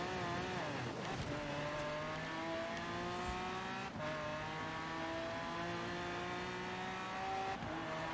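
Race car engine in Forza Horizon 4 on a road leading to a racetrack, a steady loud drone that rises in pitch and drops at each gear shift, about three shifts in eight seconds, with no talking.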